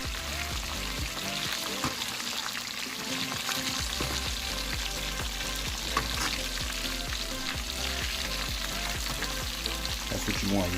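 Chicken pieces fry in hot oil, cooking to a dark brown, crispy skin, with a steady, loud sizzle and bubbling throughout, occasional pops and crackles standing out close by.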